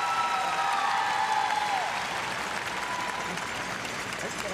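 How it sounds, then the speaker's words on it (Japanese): Loud, dense applause fills a figure skating arena as Mao Asada is introduced, sustained throughout and tapering only slightly toward the end. "浅田真央が紹介されて場内大きな拍手、"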